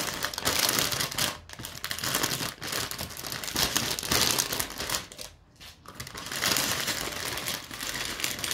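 A plastic bag of Lego pieces is torn open and handled, giving dense, loud crinkling and rustling with a few brief pauses, close up and without speech.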